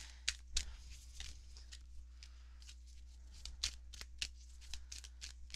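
Oracle cards are shuffled close up in quick papery riffles and soft slaps, an irregular run of crisp bursts over a low steady hum.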